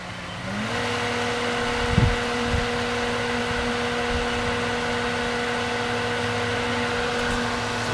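Pool pumps by a Pentair IntelliPH acid dispenser setup start up and spool into a loud, steady motor hum that rises in pitch briefly, then holds constant, with a couple of soft knocks early on.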